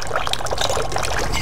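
A bartender pours a drink from a bottle, liquid splashing and trickling steadily into a glass, close and continuous for about a second and a half.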